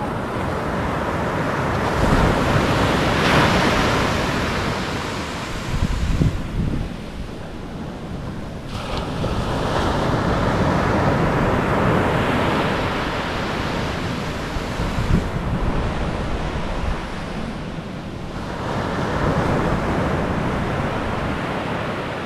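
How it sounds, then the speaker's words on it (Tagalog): Ocean waves roll and surge in a continuous broadband roar, swelling and easing in several long pulses, with wind buffeting the microphone and no voices. "Inaabot na ng laka ng alon."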